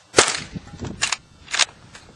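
Gunshots from outdoor target shooting in a desert setting among cactus: three sharp, loud cracks spaced about half a second apart, with quieter thumps between them and no talking.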